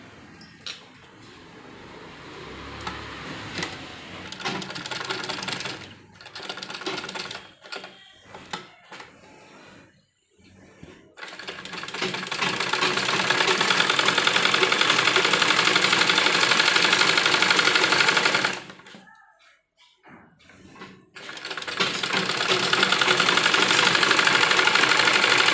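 A sewing machine sews slanted stitching on a child's umbrella frock with bell sleeves, first in short stop-start bursts, then in long loud continuous runs near the machine, with one brief pause between them.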